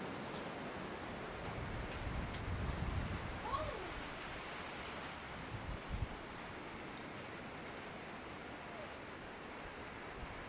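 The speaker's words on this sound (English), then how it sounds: "the rain is blowing in" Wind-driven rain sweeps through a woodyard during a spring storm, a broad steady hiss with gusty surges, some faint distant knocks and rustles, and no speech.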